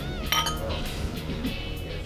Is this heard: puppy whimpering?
no